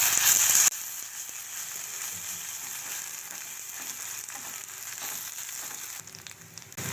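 Onions with ginger garlic paste frying in a pan, a soft continuous sizzle with faint stirring scrapes, fairly quiet and with no talking.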